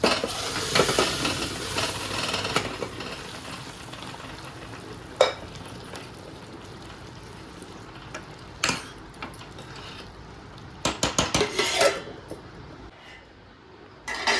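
Boiled dal being stirred into a pot of drumstick leaf curry, with steady sizzling and bubbling, a scraping spoon and a burst of clattering utensil strokes near the end, close and clear.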